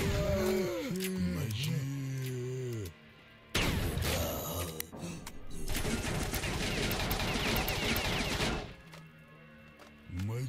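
Shotgun blasts in Stalker: Shadow of Chernobyl, loud sharp reports amid a burst of heavy, noisy gunfire in an underground area, with a creature's growls and a speaking voice early on.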